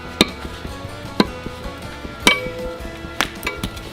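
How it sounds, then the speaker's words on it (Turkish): Pickaxe striking stone in Minecraft, a series of sharp, crisp hits spaced about a second apart, each a short clack standing out over a steady low game background. "Bak mesela kazmayla. Şimdi taş kazıyorum."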